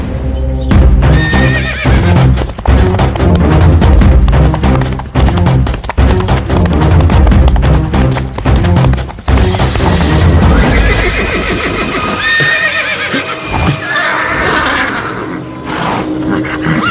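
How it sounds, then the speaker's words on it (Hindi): A horse neighs in a dark forest at night amid loud dramatic music and effects, its whinny rising over the dense mix partway through. "ना जाने इस घोड़े को क्या हो गया है"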